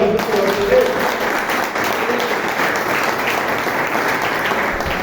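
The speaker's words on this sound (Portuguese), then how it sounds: "Você pode aplaudir agora?" A church congregation applauds during a sermon, a steady wash of clapping close by, with a faint voice or tone briefly audible near the start beneath it.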